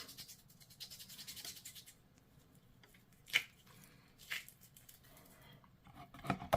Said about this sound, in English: Again, I'm going to go dry brush it on.